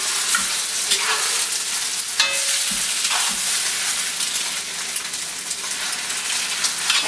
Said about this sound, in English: Mix it. The idea is so the egg will coat the noodles.